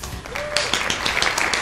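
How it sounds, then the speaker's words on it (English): Audience applause and hand clapping at a Georgia Southern University homecoming event start up partway through, a dense, steady patter of many hands that continues to the end. "I need a hand clap for that"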